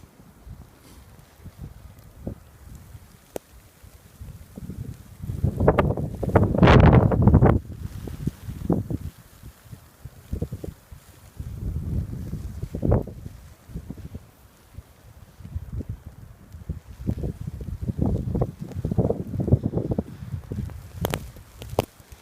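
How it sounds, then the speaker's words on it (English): Blizzard wind gusting 30 to 40 in a whiteout snowstorm with snow falling 5-6 inches an hour, roaring in irregular buffeting surges against the microphone, strongest around the middle and again toward the end, with no talking. "right in the middle of a major snow band, probably 5-6 inches an hour, winds gusting 30 to 40,"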